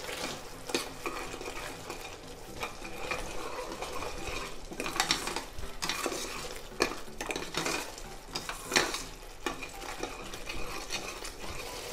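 A spoon stirs a thick chutney with roasted cumin powder, sugar, dry ginger and salt in a pan, scraping and clinking against the metal in irregular strokes over a low cooking hiss, close and steady, with no voices.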